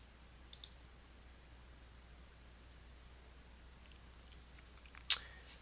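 Computer mouse clicks while editing WordPress portfolio items: a quick double click early on, then a sharper single click near the end, close and quiet over faint steady hiss, with no talk.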